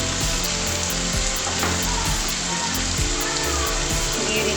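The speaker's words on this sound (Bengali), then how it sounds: "এটা ভাজা হতে হতে পেঁয়াজটা আমি তার মধ্যে দিয়ে দিচ্ছি" Onion sizzles loudly in hot oil in a pan where prawns are frying for a taro-stolon curry, a close, continuous crackle with faint clatter and no talking.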